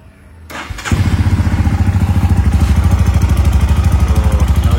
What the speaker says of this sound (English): Now let me crank it.